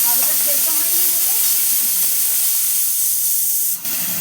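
Pressure cooker on a gas stove cooking goat meat, giving off a steady, loud broadband hiss of escaping steam that runs continuously throughout and dips briefly near the end.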